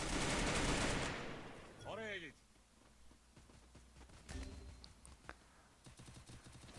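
A loud burst of gunfire in a video game opens the scene, then scattered sharp shots crack intermittently at moderate distance, with a voice briefly heard.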